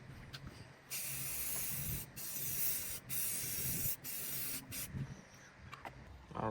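Spray gun laying a light primer coat onto a 2014-2020 Mazda 6 bumper, loud hissing bursts of a few seconds each separated by brief pauses.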